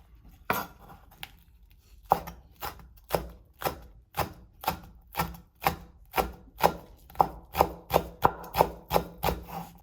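A knife chops green onion into fine shreds on a board for Korean pachae, with sharp, close, evenly spaced strikes that start sparse and speed into a steady, quickening rhythm.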